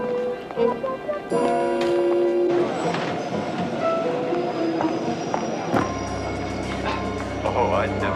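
A passenger train at a Budapest station, with rumbling wheels, clanking carriages and a horn-like tone while voices chatter over the busy platform.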